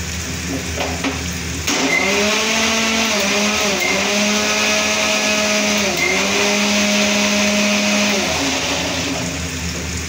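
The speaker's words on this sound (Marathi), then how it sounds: "ते थोडं हे होत नाही तोपर्यंत हे मिक्सरला लावून घेते." A mixer grinder blending batter whirs loudly and steadily after a short start, its motor pitch dipping briefly under load, running for several seconds.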